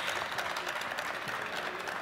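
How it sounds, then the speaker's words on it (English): An audience at a welcome reception in an auditorium claps in a steady, dense round of applause, moderately loud and continuous, with no speech over it. "Give them a great round of applause."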